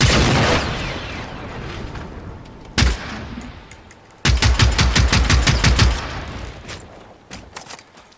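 Automatic gunfire in the video game Generation Zero, with a long burst of rapid shots followed by a second dense rattling burst, loud and close, trailing off into scattered reports.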